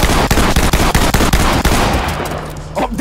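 Rapid, loud automatic gunfire in a video game, a dense burst of close shots firing in steady rhythm for a couple of seconds before tapering off.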